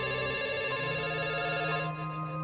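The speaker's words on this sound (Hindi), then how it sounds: "मेरे घर का टेलीफोन बजा।" A home telephone rings steadily and close by, a continuous electronic tone sounding alone without any voices.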